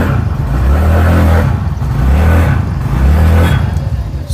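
A TVS Ntorq scooter, a reconditioned 2021 model, idles steadily up close with a continuous low engine hum and a few mild swells in revs throughout.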